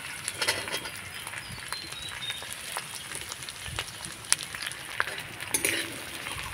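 Mixed vegetables stirred and lightly fried in a pan with ginger and chilli, a soft continuous sizzle broken by scattered scraping and clinking of the spatula, close and moderately quiet.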